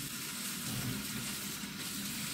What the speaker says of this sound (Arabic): باش نزيدها توا مغرفة ماء سخون